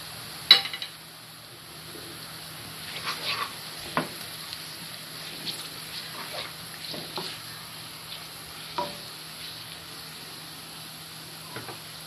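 Onion and spices sizzling in a pan while making prawn pulao, a quiet steady frying hiss broken by sharp scrapes and taps of a spoon stirring against the pan, with one louder clack near the start.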